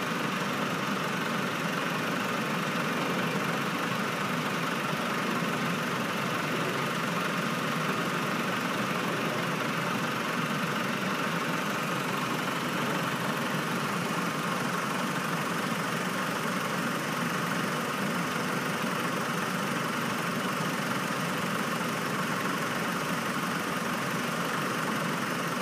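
A 2006 Chrysler PT Cruiser with the 2.4-litre engine idles steadily for the whole stretch, a continuous even engine hum and vibration with no revving and no voices.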